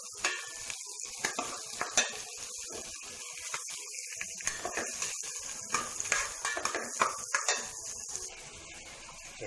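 Ginger sautés in a pan for sinigang na bangus, a quiet sizzle broken by frequent scraping and clinking stirs of a utensil against the pan, close and irregular.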